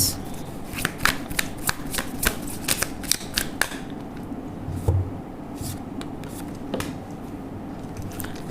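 Tarot cards shuffled by hand in a steady run of crisp riffling snaps and soft flutters. The sound is close and quiet, with a brief pause midway before the shuffling resumes.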